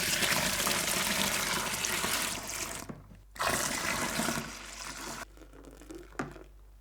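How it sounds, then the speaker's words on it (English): Cold tap water gushes steadily into a homebrew fermenter while topping up an American pale ale made from a liquid malt extract kit, with two brief pauses in the flow before it resumes, close and fairly loud. "Top up 23 litres using cold tap water and stir well."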